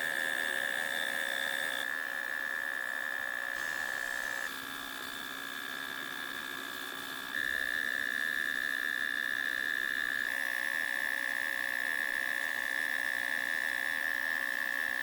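A power drill drives fasteners into roofing sheets while rebuilding a 100-year-old house, giving a steady high-pitched motor whine that shifts in pitch and level across several continuous runs, close and with no talk.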